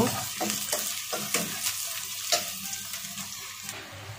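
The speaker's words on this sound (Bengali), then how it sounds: "পেঁয়াজটা আমি বাদামি রং করে ভেজে নেব।" Half a cup of chopped onion fries in oil, a close, soft steady sizzle broken by scraping stirs of a spoon in the pan.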